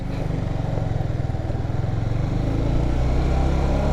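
A motorcycle engine running steady and loud up close, a continuous rumbling drone with a slight rise toward the end as it moves off in first gear, no voices.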